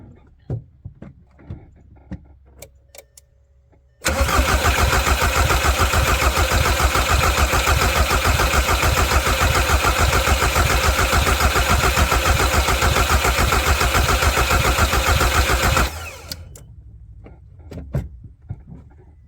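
Volkswagen Jetta TDI diesel engine cranking steadily after a fuel filter change, a loud continuous starter churn lasting about twelve seconds, with quieter clicks and handling noises before and after.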